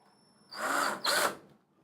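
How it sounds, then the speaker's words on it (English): A handheld power drill whirs in two short bursts, the first about half a second long and the second briefly louder, close and clear in a quiet indoor space. "when you grasp a hold of the drill, this tool"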